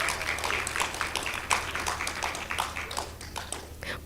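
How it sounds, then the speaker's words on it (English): Sparse, quiet applause from an audience at an adolescent pregnancy consultation indaba as a speaker comes up on stage, claps scattered and fairly distant with no talk over them. "Please clap for Andile as she comes up on stage."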